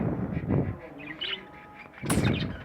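A female budgerigar chirps after being placed in the male's cage, with short bright calls coming in a few bursts, the loudest near the end, over low rustling and a faint voice.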